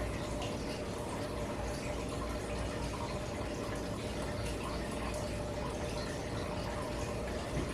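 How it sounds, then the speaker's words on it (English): Sweet and sour sauce boiling in a pan on full heat, a steady bubbling and hissing wash that stays even and moderately loud from start to finish. "Let it boil."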